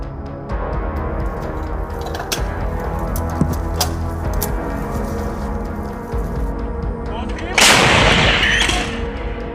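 MT-12 Rapira anti-tank gun firing on a front line, a distant heavy boom and crackle over a steady outdoor background, with a louder close blast burst near the end.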